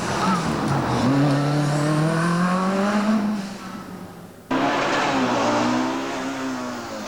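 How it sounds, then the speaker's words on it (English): A Lancia Delta S4 rally car at the 1986 Rally New Zealand, its engine loud and close, rising and falling through gears, briefly dropping away before roaring back. "Mikael Eriksson was having only his 2nd rally drive in one of Lancia's powerful Delta S4s."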